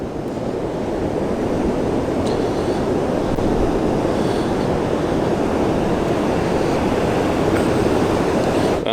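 Huge ocean waves after Hurricane Ian, a loud continuous roar of surf breaking close by, steady throughout with no voices.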